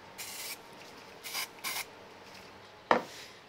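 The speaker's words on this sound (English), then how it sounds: "so I'm just going to give it a quick spray." A few short bursts of craft spray misted onto a die-cut paper piece for a gingerbread man card, three quick close hisses followed by a brief tap as the piece is set down.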